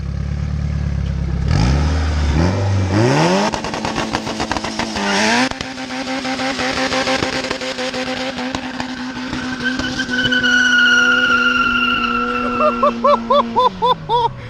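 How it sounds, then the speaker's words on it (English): A car with a built single-cam engine does a burnout in a parking garage, revving hard with rising engine pitch, loud tire squeal and a sustained screech, then sharp rev-limiter stutters at the end. "burnout!"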